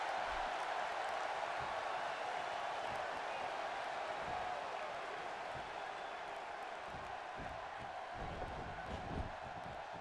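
A wrestling arena crowd cheers and roars continuously at a steady, fairly distant level, with faint claps and shouts under a dense wash of noise.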